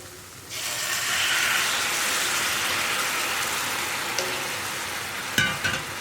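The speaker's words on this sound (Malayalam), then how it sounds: "ഞാനിപ്പോൾ ശർക്കരപ്പാനി പഴത്തിലേക്ക് ചേർക്കാണ്" A steady, hissing sizzle fills the air as jaggery syrup is poured onto bananas cooking in a hot pan. It starts suddenly and continues, ending with a few soft utensil clinks.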